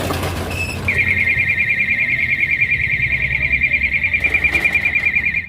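A Hikvision wireless shutter security alarm hooter blares as the shutter is raised, a loud, steady high-pitched warbling siren that starts abruptly after a brief clatter and holds continuously.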